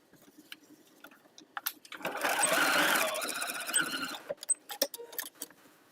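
A sewing machine stitches darts on a denim patchwork bunny head, running in one steady burst of about two seconds, with short clicks and handling taps before and after.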